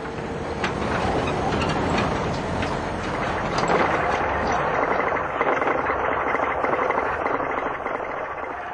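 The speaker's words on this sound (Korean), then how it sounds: "차는 비포장 도로를 한참이나 달렸다." A car rumbles and rattles steadily over an unpaved dirt road, with loud clanking jolts and mechanical noise throughout.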